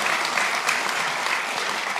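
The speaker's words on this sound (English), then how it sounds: "let's give them all one more round of applause and some cheers" Applause and cheering from the audience at the 2026 Tasmania Australian of the Year Awards ceremony: dense, steady clapping that fills the room without a break, loud and close.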